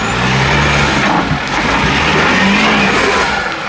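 A deep, loud diesel engine rumble from a Nissan NP300 pickup's stainless steel exhaust, steady and throaty with slight shifts in pitch, close to the listener.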